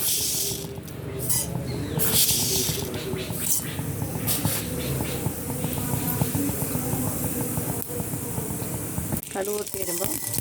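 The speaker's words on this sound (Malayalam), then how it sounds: "വെളിച്ചെണ്ണ ഒഴിച്ചിട്ടുണ്ട് പാനിൽ നമുക്ക് കടുകിടാം" Mustard seeds in hot coconut oil in a pan give a continuous hiss with crackling and popping, close and fairly loud. A voice talks over it throughout.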